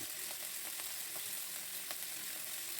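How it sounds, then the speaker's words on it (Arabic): Chicken gizzards sauté in hot oil in a pan, giving a steady, dense sizzle with small crackles throughout, close and continuous with no talking. "هديها تشويحة كده لحد ما تغير لونها زي ما انتوا شايفين"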